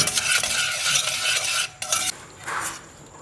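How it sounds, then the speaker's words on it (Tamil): Korean fried chicken, dakgangjeong, is tossed in sauce in a pan, with a dense sizzle and rapid stirring scrapes that stop briefly, then resume more softly, and no one speaks. "இப்போ நல்லா மிக்ஸ் பண்ணிவிட்டு நம்மளோட சிக்கனை போட்டு நல்லா கோட் பண்ணிடலாம்."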